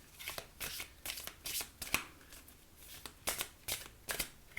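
Oracle cards are shuffled in quick, uneven bursts of crisp riffling and flicking, close and fairly soft, with short pauses between bursts.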